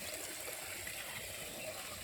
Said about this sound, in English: we've got 2 waterfalls going now